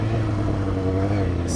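Yamaha FZ-07 motorcycle lifted into a wheelie, engine droning in a steady low hum with a gentle rise in pitch over a short moment, close and fairly loud.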